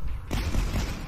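Explosions go off in the video game Dusk, a sudden deep boom cutting in after a brief lull and rumbling on for the rest of the moment, fairly close and heavy.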